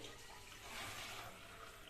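Water added to washed sago and chana dal for bottle gourd payasam pours in a faint, steady, hissing stream that keeps going without a break.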